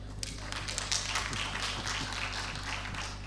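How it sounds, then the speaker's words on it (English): Audience at a general session of an agricultural engineering conference in Abuja claps in a steady, close patter of many hands, moderately loud and sustained throughout without speech over it. "You should clap for her."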